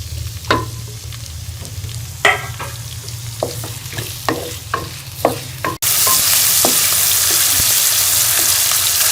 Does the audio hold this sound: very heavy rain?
no